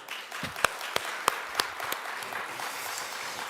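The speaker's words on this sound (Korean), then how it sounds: "박수 한번 할까요?" Scattered applause from a church congregation at a Friday prayer service, a few sharp distinct claps over a soft murmuring room, quiet and somewhat distant, thinning out toward the end.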